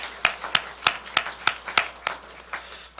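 A church congregation at a Sunday worship service claps in encouragement for a children's worship dance team, producing sharp, evenly spaced claps in unison, about three per second, with no talking.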